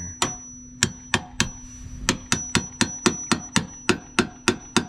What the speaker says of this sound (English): Hammer tap it in there a little bit.